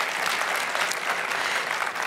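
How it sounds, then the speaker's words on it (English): Dense, bright applause from a conference audience celebrating an online learning milestone, a continuous crowd clapping that holds steady for a couple of seconds. "Round of applause for that"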